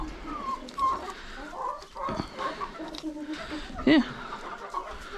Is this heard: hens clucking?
yes